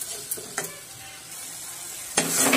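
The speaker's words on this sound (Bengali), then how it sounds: "এবার এটাকেও আমি খুব ভালোভাবে কষিয়ে নেব, প্রায় 2 থেকে 3 মিনিট ধরে।" Masala for stuffed pointed gourd, with a little water added, sizzles softly in a pan with a few spoon scrapes, then a louder hiss surges near the end.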